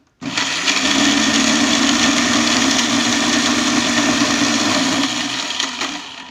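An electric grinder whirs steadily for about five seconds as it pulverises whole garam masala spices into powder for chicken nihari, with a loud, constant motor hum starting abruptly and running to the end.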